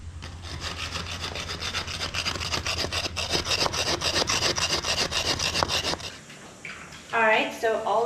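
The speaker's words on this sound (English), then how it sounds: "This rubbing stone." A rubbing stone scrapes back and forth over stained concrete in quick, steady gritty strokes for about six seconds, close and loud, then stops as a voice briefly speaks.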